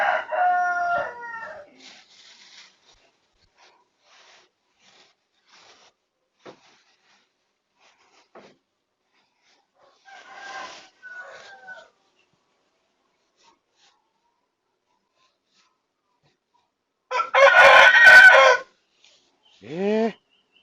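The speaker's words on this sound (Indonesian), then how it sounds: "Masih berkokok aja." A rooster crows in bursts, with a full crow at the start and another loud one near the end, separated by long near-silent stretches holding only faint scattered clucks and noises.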